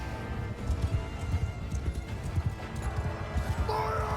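Cavalry horses galloping in a Mount & Blade II: Bannerlord field battle, a dense continuous drumming of hooves with a distant whinny and battle noise under it.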